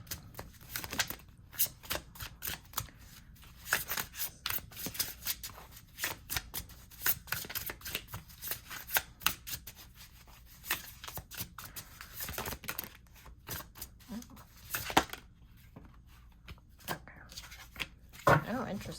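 Tarot cards being shuffled by hand: quick papery riffles and soft clicks repeating in steady bursts throughout, close and fairly quiet, with occasional faint talk.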